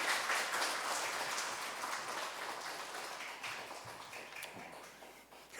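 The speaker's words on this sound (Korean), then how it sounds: "박수로 모시겠습니다." Steady applause from an audience, a dense wash of clapping that holds evenly throughout, heard from a distance and fairly soft.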